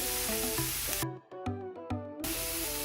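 Green beans hit a hot pan for a vegan chickpea stew, giving a loud, close, steady sizzle and hiss that briefly drops away and then surges back at full strength.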